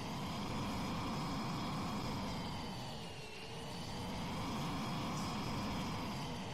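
Jet engine roaring at maximum throttle in the flight game Sky Rogue, a loud continuous broadband roar with a high whine that dips briefly midway, then returns to full power, with no voices.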